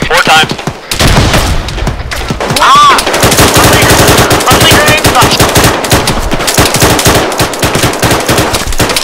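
In a first-person shooter video game, machine gun fire rattles in loud, rapid bursts, with dense repeated shots through most of the stretch and brief pauses between volleys.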